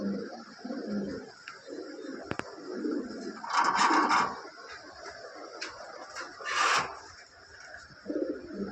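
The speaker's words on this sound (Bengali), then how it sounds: "এখানে আরেক পেয়ার ব্ল্যাক লাহরি" Black Lahori pigeons coo in soft, scattered bursts at close range, with rustling and scraping movement between calls and no talking.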